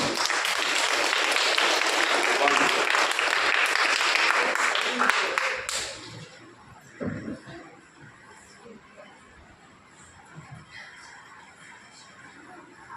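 A church congregation claps loudly and steadily during a Sunday Bible-day mass at St Joseph's Church, the applause fading after about six seconds into quieter room sounds and a few voices.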